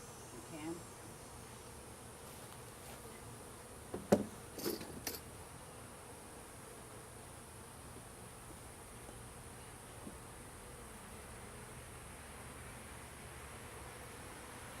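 Honey bees in an opened beehive buzz as a faint, continuous hum, with a few sharp clicks and knocks from handling frames midway.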